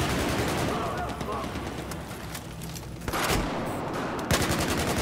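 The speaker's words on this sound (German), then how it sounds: "Oh, jetzt schießen wir einen raus hier." Battlefield 4 battle noise with a dense wash of distant gunfire and rumbling blasts runs throughout, with a sharper burst near the end and someone talking.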